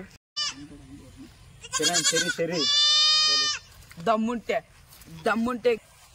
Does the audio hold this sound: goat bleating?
yes